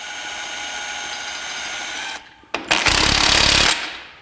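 A power impact tool whirs and rattles while tightening the U-bolt nuts on the skid plate of a 1982 Jeep CJ7, a loud close whine followed by a brief pause and a harsher burst of hammering.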